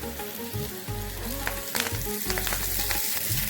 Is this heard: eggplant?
yes